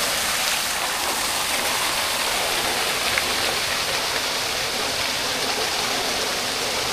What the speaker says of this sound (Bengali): অনেক নিচ অব্দি জল চলে গেছে, জলের ভালোই স্রোত রয়েছে। ওই ওপর থেকে জল নেমে আসছে।